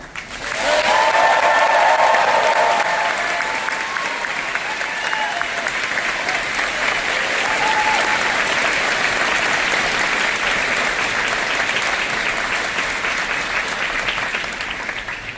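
Graduation ceremony audience cheering and applauding, a dense steady wash of clapping with whoops and shouts that holds for about fifteen seconds, loud and close throughout.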